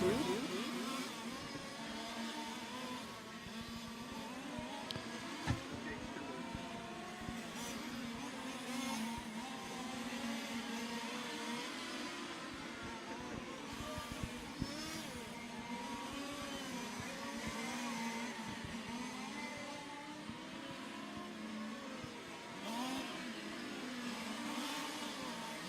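1/5 scale on-road racing cars at a world championship qualifying session whine steadily as several engines rev and pass in overlapping waves, moderately distant, with no talking over them.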